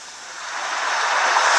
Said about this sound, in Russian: Море. Да, волны.